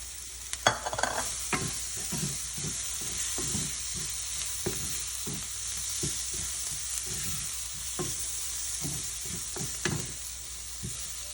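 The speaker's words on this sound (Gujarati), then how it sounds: "આપણો મસાલો શેકાઈ ગયો છે" Spice masala with fresh coriander roasting in a pan for a sprouted mung bean curry, a soft steady sizzle with regular scraping strokes of a spoon, close by and without speech.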